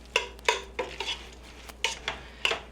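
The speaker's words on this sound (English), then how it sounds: "Stir that a bit just to get that oil in between those pieces of meat." Meat pieces stirred in oil in a pot for black bean chili, a spoon scraping and clanking against the metal in a series of separate strokes, close and clear with a faint sizzle and no talking.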